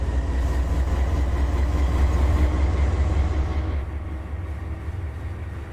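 A locomotive with a flat spot on its wheel rolls along the track in Run8 Train Simulator, a steady heavy rumble that drops to a quieter level partway through.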